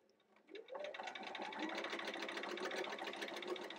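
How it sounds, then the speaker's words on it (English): Sewing machine stitching quilt block pieces for a tulip-pattern sampler block: the motor starts up and then runs steadily with a fast, even stitching rattle, close and fairly quiet. "we'll sew this guy down"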